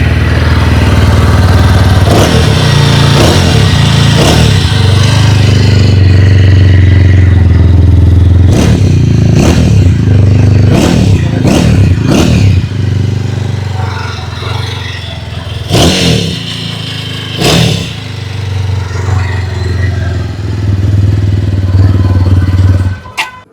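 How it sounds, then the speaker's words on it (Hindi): A 2026 TVS Apache RTR 200 4V motorcycle idles with a deep, steady exhaust burble, broken by several sharp throttle blips that rise and fall quickly. Loud and close, with no talking over it. "आइए अब सुन लेते हैं इस बाइक की एग्जॉस्ट नोट।"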